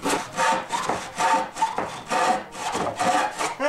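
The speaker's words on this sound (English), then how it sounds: "cut through here down 4 inches, which is very easy cutting with this special type of wood" Hand saw cutting through a special type of wood, about 4 inches deep in a shop, in steady back-and-forth strokes, roughly seven loud rasping passes with no talk.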